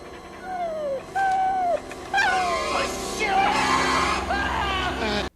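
A reanimated dog, cut in half and lying on the floor in the horror film The Return of the Living Dead, gives a string of whining, yelping cries that rise and fall in pitch, close and loud.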